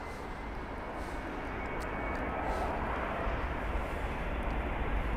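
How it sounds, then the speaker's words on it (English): An Airbus A330 airliner on approach to London Heathrow, a broad low jet roar that builds slowly and steadily from a distance. "Can already hear the 330."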